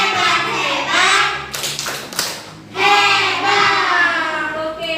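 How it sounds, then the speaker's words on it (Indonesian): A classroom group doing a rhythmic clapping chant, children's voices chanting in unison with short sharp hand claps and taps bursting in the middle, loud and close. "Yuk, kasih tepuk hebat untuk Habibi dan kelompoknya"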